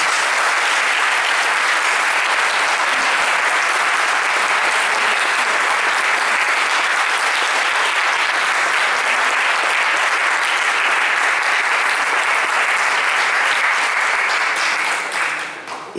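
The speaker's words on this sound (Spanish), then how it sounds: "para la que pido un enorme aplauso" Loud, sustained applause from a large audience at an Izquierda Unida political rally in León for a regional parliament candidate, steady clapping filling the whole stretch and easing slightly at the very end.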